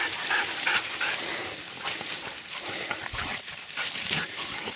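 Hunting dogs barking and yelping in scrub during a wild boar hunt in Queensland, Australia, a busy, mid-distance mix of barks and whines amid rustling and outdoor noise.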